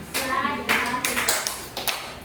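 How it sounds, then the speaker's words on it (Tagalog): A class of students gives a rhythmic group clap of three for a classmate, a few sharp broadband bursts mixed with voices in a classroom. "So, bigyan natin ng 3 palakpak si Maxine."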